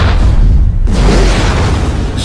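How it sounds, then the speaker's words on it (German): A gas cylinder explodes with a loud boom after a brief lull, followed by a sustained roaring rumble that keeps going, close and heavy. "Die Explosion setzt auch den Regenschirm in Brand."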